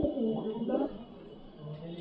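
Pigeons coo with soft, low, throaty calls close by, a short cooing phrase followed by a quieter stretch.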